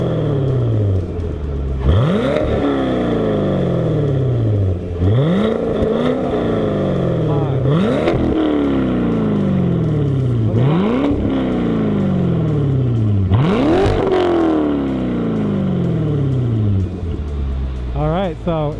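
Chevrolet Corvette C7 with Borla or AWE aftermarket exhaust revving repeatedly, each loud close blip rising and falling back to a deep idle rumble in a steady rhythm, with brief voices in between.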